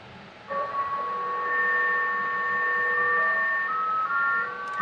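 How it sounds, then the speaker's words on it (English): JT65 amateur digital radio mode transmission: a steady sequence of pure tones stepping between pitches, one clear sustained tone hopping up and down over a faint noise floor, continuous for several seconds, no voices. "JT65, there's 65 tones that are being sequenced to send data."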